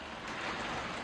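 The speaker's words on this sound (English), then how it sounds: "it's raining fairly hard now" Fairly heavy rain falls outdoors, a steady broadband hiss of drops with no pauses, close and even throughout the brief stretch.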